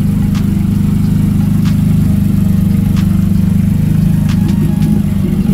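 A Nissan Maxima with a swapped HR engine running at an unsettled idle, loud and close, a steady low rumble with faint occasional clicks above it.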